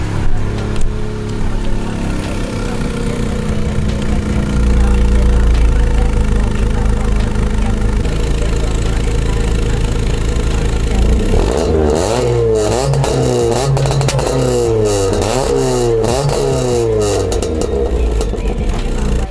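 A Honda Civic EJ2 engine idles steadily and close by. It is then revved several times in quick rising and falling sweeps, loud and unaccompanied.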